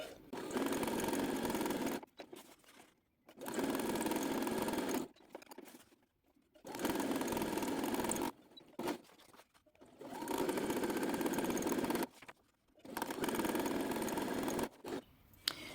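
Sewing machine stitching paper stamps at rapid speed, running in bursts of about two seconds with short pauses between passes, loud and close.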